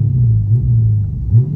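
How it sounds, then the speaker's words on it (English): A truck engine revs as the gas is hit, a loud, close, low rumbling drone that swells and holds for under two seconds. "This is off, I'm gonna hit the gas."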